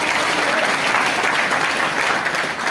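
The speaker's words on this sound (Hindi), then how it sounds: "जैसे ही सरकारी नौकरी का बात किए, तुरंत ताली बजा रहा है" A crowd at a Hindi-language political rally bursts into loud, sustained applause, dense clapping filling the space without a break.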